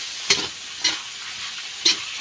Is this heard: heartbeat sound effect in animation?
no